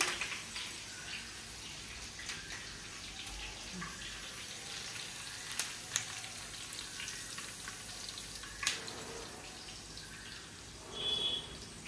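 Green chilies sizzle in hot oil with a steady soft hiss, broken by a few sharp pops and a brief louder swell near the end, with no talking.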